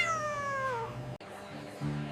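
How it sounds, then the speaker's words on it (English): Small cat crying with drawn-out, falling meows, close and fairly loud, followed after a brief gap by a lower, steadier cry. "Customers started asking why the little cat was crying so much."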